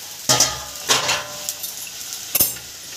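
Masala paste sizzling in a covered kadhai with oil, cumin and bay leaf, heard as a soft sizzle broken by a few sharp metallic clinks and scrapes, close by and with no talking.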